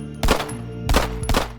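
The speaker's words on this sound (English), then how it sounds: "One thing that I can give it a little bit of slack are the weapon sounds." Gunfire from weapons in the game Intravenous: three sharp, loud shots in quick uneven succession, each a hard broadband crack with a short booming tail, close and alone.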